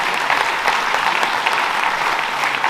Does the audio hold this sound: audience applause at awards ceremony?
yes